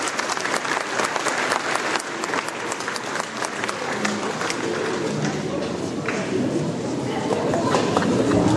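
Sustained applause from an audience at a town-hall New Year's greetings ceremony as municipal councillors are invited forward, dense and steady throughout with crowd murmur underneath.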